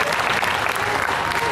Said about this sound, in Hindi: सभी करवा परिवार के सदस्यों के लिए जोरदार ताली बजाकर के स्वागत इन सदस्यों का